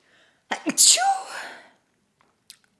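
A single sharp sneeze, close and loud, with a quick intake of breath just before it, followed by near silence.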